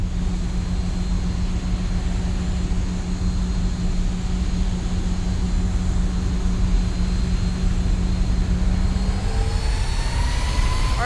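Boeing 737-800 jet engines idle while taxiing toward runway 28 right at San Francisco in the X-Plane 11 flight simulator, a steady whining hum with a low drone, rising in pitch near the end.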